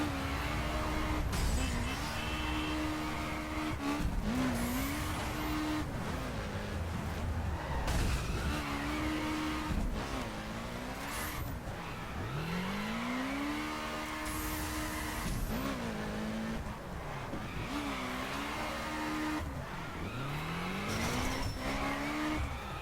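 A Subaru BRZ in the racing game The Crew revs high and repeatedly, its engine pitch climbing and falling through gear changes, with bursts of tire squeal and skidding as it accelerates, steady and fairly close.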